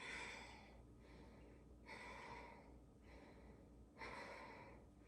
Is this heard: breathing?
yes